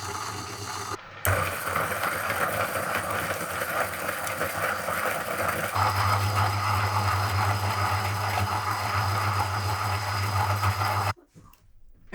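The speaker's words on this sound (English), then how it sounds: "Let's listen to the sound of both and check the decibels from 1 metre away, both empty and grinding." Niche Duo and Niche Zero coffee grinders running, first empty and then grinding beans, heard from about a metre away as a steady loud motor whir that shifts to a deeper, fuller hum partway through before cutting off.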